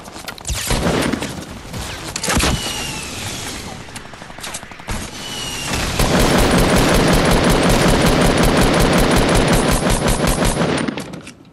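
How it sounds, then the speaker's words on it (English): Rapid bursts of automatic gunfire from shooting an enemy in a video game, loud and sustained for over ten seconds, growing denser and heavier in the second half before cutting off. "I shot that one guy a ton."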